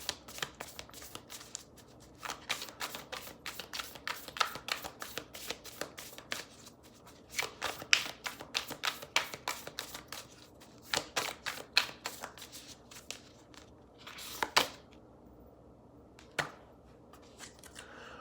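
Moonology oracle cards being shuffled by hand, a steady run of crisp riffling slaps and flutters, close and fairly quiet, with a brief pause near the end and no talking.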